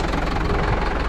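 A recovery truck engine runs with the PTO engaged, a loud, dense, rough mechanical drone with a knocking throb, close and steady throughout, no voices.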